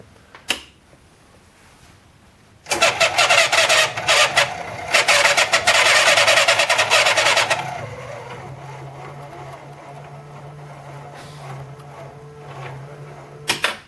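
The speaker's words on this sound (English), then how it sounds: "That's the motor. It's trying to spin, but they're not spinning because it needs to be fully stripped and cleaned." A reel motor in an unserviced Aristocrat Microstar 5-reel amusement video slot machine grinds and whirs loudly as it tries to spin. The reels stay jammed and the sound comes in bursts for about five seconds, then falls to a low steady hum.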